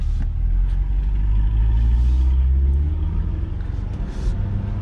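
A deep engine rumble from a C8 Corvette sports car with an aftermarket exhaust nearby, low and throbbing, with a slight swell and then easing off; no voices.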